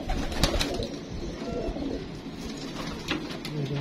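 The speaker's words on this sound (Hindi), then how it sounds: "ये माशाल्लाह उड़ा हुआ मेरा कबूतर है" Pigeons coo softly and repeatedly from nearby, a steady layered cooing with a few wing flutters and bird chirps over light loft ambience, with no talking.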